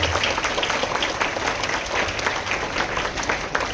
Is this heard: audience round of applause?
yes